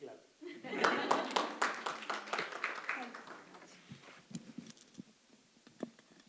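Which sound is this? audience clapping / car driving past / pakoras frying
audience clapping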